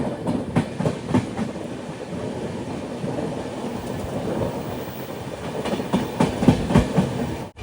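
Matsyagandha Express sleeper train running in rain on the Kerala to Mumbai line near Surathkal station, with a steady rumble and repeated clickety-clack wheel beats over rail joints, loud and close throughout.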